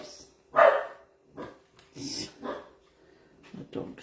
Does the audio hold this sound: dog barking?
yes